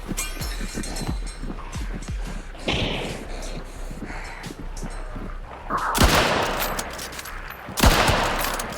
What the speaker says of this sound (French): j'ai beau lui mettre une balle